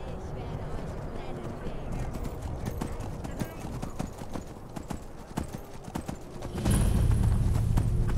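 Horse hooves clip-clop steadily while riding in the video game Skyrim, a continuous rhythmic trot that grows louder and heavier near the end, with a neigh-like burst.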